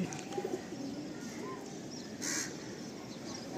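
Kalasabuj pigeons call nearby, soft cooing mixed with a few harsher caws and chirps over a low background rumble.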